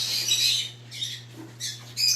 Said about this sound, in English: My birds are saying hi to you guys.